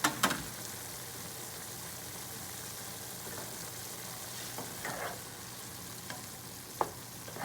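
Mixed vegetable shaak cooking in a pan over a medium gas flame, giving a steady soft sizzle with a few brief clinks or stirring taps, close and alone with no talking.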